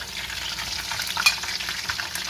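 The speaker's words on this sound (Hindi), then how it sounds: "मीट बॉल जो है मैं पहले फ्राई करूँगी ऑयल में।" Meatballs frying in hot oil give off a steady, close sizzle with a brief brighter crackle partway through, and nobody speaks.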